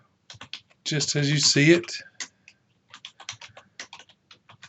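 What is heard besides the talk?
typing on a computer keyboard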